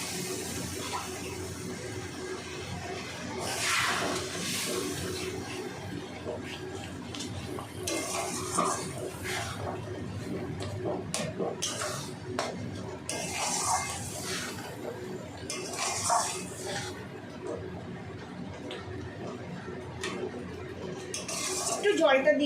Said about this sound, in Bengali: মশলার বাটিটা ভালো করে ধুয়ে এই জলটাও আমি দিয়ে দেব।